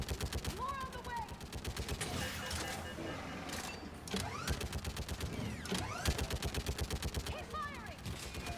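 Sustained rapid gunfire in a Mass Effect-style sci-fi video game battle, dense overlapping bursts of automatic weapons fire with mechanical clanks and occasional whooshes, continuous and loud throughout.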